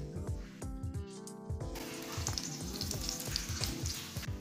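An aloo palak paratha cooks with oil on a hot tawa griddle, giving a faint, steady sizzle under louder tonal background sound.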